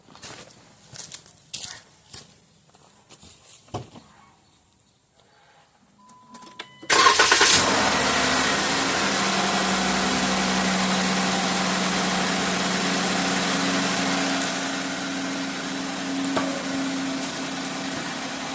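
A car engine cranks and fires after some quiet handling noises, then settles into a steady, close idle that hums evenly to the end.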